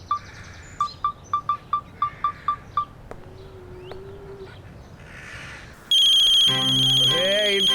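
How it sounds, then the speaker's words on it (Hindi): A phone ringtone beeps in a rapid repeating pattern of short electronic pulses, then gives way to a tone sweep and later a loud, bright melodic ring, close and clear, with no talking over it. "किसका फोन आ गया भाई?"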